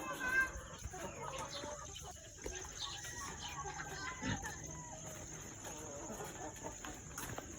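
Chickens cluck on a poultry farm in a rural province, with scattered close and distant clucks over steady outdoor ambience while people talk nearby.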